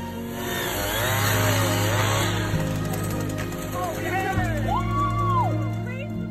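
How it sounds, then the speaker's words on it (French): Chainsaw cutting apart the locked antlers of two deer, a steady motor whine running throughout, loud and close, with music and narration laid over it. "Imaginez à quel point il était difficile de séparer les animaux à l'aide d'une tronçonneuse sans les blesser."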